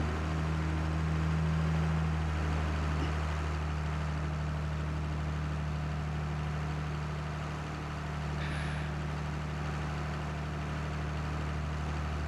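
A tractor engine in Farming Simulator 22 drones at a steady low idle, a continuous even hum with no talking over it.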